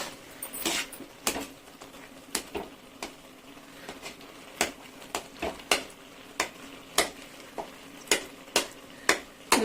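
A spoon stirring carrot halwa with plain unsweetened khoa in a pan, scraping and tapping against the metal in a steady run of sharp clacks and clinks, close and clear with no talk.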